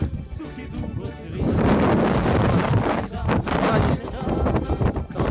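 Strong gusty cold wind on the summit of Mount Hoverla buffets the microphone in loud rushing bursts, with brief voices heard under the roar.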